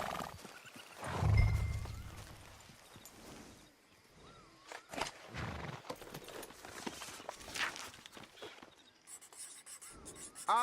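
Horses in the Red Dead Redemption 2 game world, with snorting, hoof clops and tack movement, loudest in a burst early on and then scattered sharp thuds and rustles across the rest.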